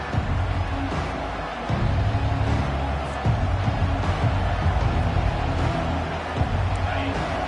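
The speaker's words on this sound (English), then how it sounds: "This crowd bringing an ear-splitting welcome to their visitors." Loud, dense stadium crowd roaring at an Alabama college football kickoff, a steady wall of cheering and noise throughout with no breaks.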